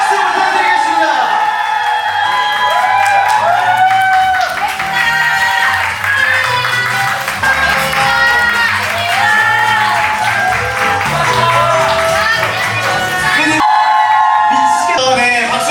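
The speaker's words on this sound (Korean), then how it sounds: "오늘 이렇게 오신 여러분들 큰 박수 부탁드리겠습니다" Guests at an outdoor seaside wedding in Jeju applaud and cheer continuously under loud music, with a voice speaking over the noise.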